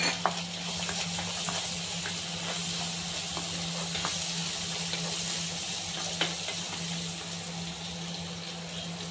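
Cooked peas tumble into a pan of sizzling garlic-ginger paste for an aloo masala samosa filling, giving a steady close frying hiss with scattered stirring clicks and light taps over a low hum, with no voices.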